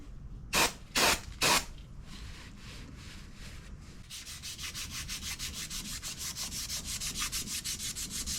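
Cleaning up a spindle before the hub is refitted: three loud spray-like bursts, then a steady rhythmic rubbing or sanding scrape that repeats quickly and evenly, close up, with no talk.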